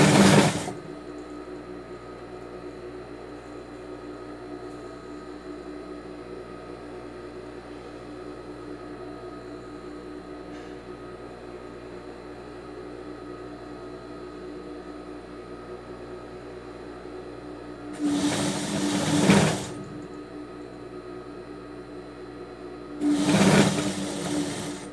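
A sewing machine runs a stitch along the edge of a homemade rug, with a steady mechanical hum throughout and louder bursts of stitching near the start and twice toward the end.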